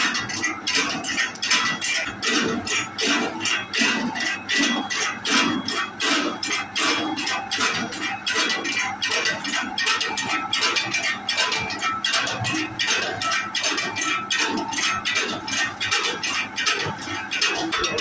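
Ayurvedic medicine ingredients, including ginger, are ground and rubbed in a mortar, giving a steady, loud, rapid clinking and scraping that runs without pause and with no talk.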